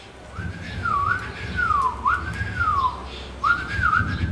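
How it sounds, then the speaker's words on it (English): A person whistles a series of sliding, warbling notes, rising and dipping in repeated phrases with brief pauses, fairly close and clear over a low background rumble. "I'm gonna go ahead and whistle a bird down."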